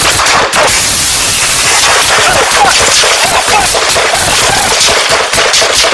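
Rapid, loud gunfire during an armed police standoff with a domestic-dispute suspect, a dense stream of close shots and heavy crackling bursts with shouting voices buried underneath.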